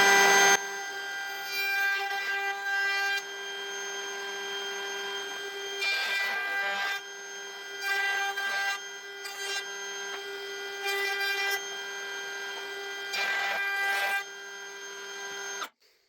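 A router rounds the edges of pallet wood coasters: a steady, close motor whine with bursts of harsher cutting noise as the bit bites into the wood, stopping abruptly at the end.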